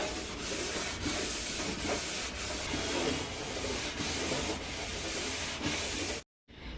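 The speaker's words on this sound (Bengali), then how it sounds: "সবার প্রথমে গ্যাস ওভেন মুছে পরিষ্কার করে নিচ্ছি আমি এইভাবে চেপে চেপে ঘষে ঘষে পরিষ্কার করি" A steel gas stove is scrubbed clean by hand with firm pressure, giving a loud, continuous rasping rub broken by regular strokes about once a second, then a brief silence near the end.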